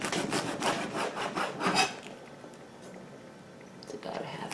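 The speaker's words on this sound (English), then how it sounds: "So let's just go ahead and slice this a 1/2 inch crosswise." A knife cuts collard greens crosswise into half-inch strips, giving a run of quick rasping strokes on the board that fade to quiet, with brief movement noise at the end.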